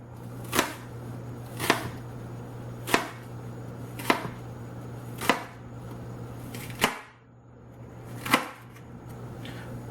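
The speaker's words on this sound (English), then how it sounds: "we're going to rock chop it, or we are going to tap chop it" Sharp, evenly spaced knife taps on a cutting board while chopping food, about eight distinct chops with short pauses between them, close and clear with no talking.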